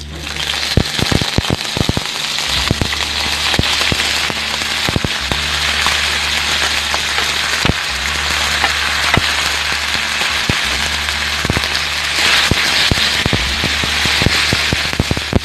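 Loud, steady sizzling and crackling of chicken frying in hot oil with garlic, with occasional sharp pops over a constant hiss.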